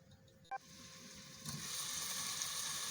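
Chopped onion with ginger-garlic and cumin paste frying in hot oil in a pan for chicken roast, a steady soft sizzle that swells after a brief click and holds as a continuous hiss, quiet and close.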